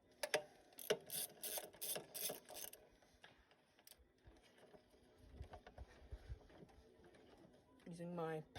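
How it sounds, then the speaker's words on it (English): Ratchet wrench clicking in quick bursts while removing spark plugs on a 1981 Toyota pickup, fairly close, then quieter scraping and handling, with a short squeak at the end. "Using my patented ratchet technique."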